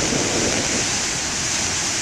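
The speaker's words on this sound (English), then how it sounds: "Boy, the waves are nice today." Ocean surf on a day of huge waves, a steady, loud broadband roar of breaking water with wind rumble across the microphone, continuous and unbroken, with no voices.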